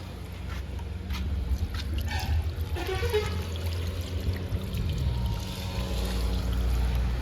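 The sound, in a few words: water running while washing hands at a restaurant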